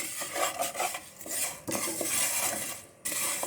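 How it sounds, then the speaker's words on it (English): Vermicelli being roasted and stirred in a pan for semiya payasam, with a steady rattle of a utensil scraping the pan and faint sizzling, close and fairly loud with no talking. "I'm roasting the vermicelli and it's almost done"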